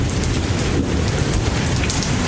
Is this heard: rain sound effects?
yes